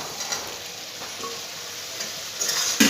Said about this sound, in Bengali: আলুটা দিয়ে ভালো মতন অল্প সময় কষিয়ে নিতে হবে